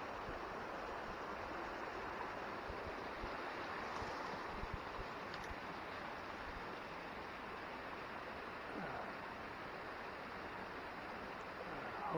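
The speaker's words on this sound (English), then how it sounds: "It's got a beautiful little running stream here to feed it all the water it can get when it rains." A small stream runs through a forest at Panther Knob, giving a steady, soft rushing and trickling of water that continues evenly throughout with no voices.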